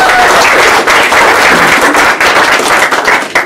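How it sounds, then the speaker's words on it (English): A crowd at a slim-down weight loss challenge finale gives loud, dense applause, steady clapping with scattered sharp claps filling the room for a few seconds. "So give everybody a round of applause here."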